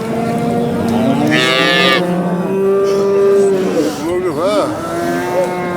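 Cattle at a busy livestock market low with long, loud moos close by, one call after another, while people talk in the background.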